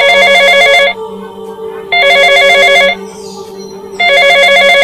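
A cartoon telephone ringtone, loud bright electronic ring bursts repeating in a steady pattern, three rings separated by short pauses.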